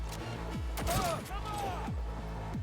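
Rapid gunfire bursts in the video game Cyberpunk 2077, repeated sharp reports over a loud continuous background, with whooshing effects in the middle; no speech.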